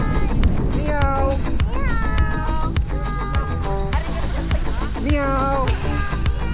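A cat meows repeatedly, several rising and falling cries spread across the stretch, close by, with background noise and a voice present.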